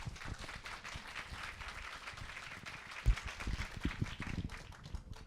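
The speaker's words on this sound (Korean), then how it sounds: "이제 박수 한번 보내주시죠" Applause from the audience at a youth presentation contest, a steady patter of many hands clapping with a slight swell near the end.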